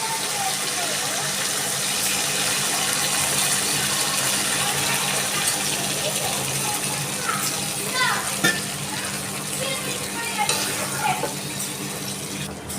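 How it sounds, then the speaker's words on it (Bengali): Water poured into a pan of pointed gourd cooked with spices gives a continuous gushing, bubbling wash with a few splashy spurts, steady and fairly close, with no talk. "আমি এবার দিয়ে দিচ্ছি জল।"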